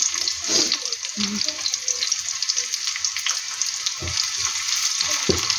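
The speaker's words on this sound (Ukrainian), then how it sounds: "Зараз трошки воно піджариться, хвилин 5-7." Dumpling filling frying in a pan gives a steady, close hiss of sizzling that runs throughout, with soft clinks and scraping now and then and a few faint background sounds underneath.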